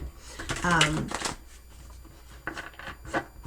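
Rapid riffling and flicking of tarot cards being shuffled close up, a dense burst followed by lighter repeated shuffles, with a voice speaking over it.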